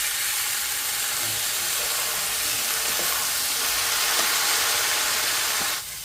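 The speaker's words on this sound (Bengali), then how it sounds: "এবার দিয়ে দিচ্ছি কেটে রাখা লাউগুলো।" Chopped bottle gourd with chili powder sizzling in a hot pan, a steady loud hiss of frying that holds evenly throughout and drops off sharply near the end.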